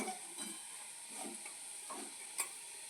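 Coriander leaf fritters fry in a pan, a faint continuous sizzle with soft scraping strokes at regular intervals as they are turned, plus a small sharp click near the end.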